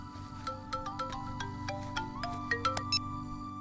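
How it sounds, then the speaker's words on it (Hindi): A mobile phone rings with a bright, chirpy melodic ringtone in a Hindi-dubbed South Indian film scene, its notes moderately loud over a steady low hum, with no talking. "फोन उठा लो।"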